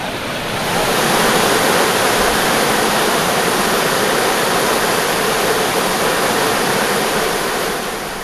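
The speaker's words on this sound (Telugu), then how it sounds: "గజ్జెహళ్లి గ్రామం దగ్గర పోతప్ప వాగు పొంగి పొర్లుతోంది" A stream swollen with floodwater after heavy rain near a village in Kurnool, overflowing with a loud, continuous rushing roar that holds steady throughout with no voices.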